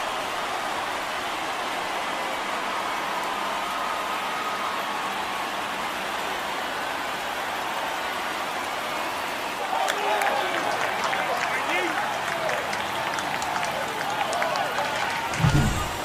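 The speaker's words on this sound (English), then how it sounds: "This crowd is on fire right now. They're going nuts thanks to that home run." Baseball stadium crowd roaring and cheering after a home run in an Athletics–Mariners game, a steady broad wash of distant crowd noise that swells louder in the final seconds.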